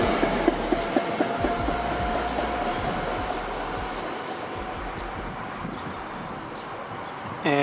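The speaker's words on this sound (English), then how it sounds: "And that is the last train I will be riding this entire video." A commuter train pulls into Downingtown station on the Philadelphia-area line, a loud, steady rumble with rhythmic clacking of wheels over rail joints that slowly eases, heard close up.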